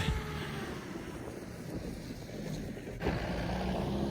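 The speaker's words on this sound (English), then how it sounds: "just powering through that snowbank." A Mahindra Roxor in 2-wheel drive powers through a snowbank with a steady, close engine roar and dense rumbling noise throughout, and a slight surge near the end.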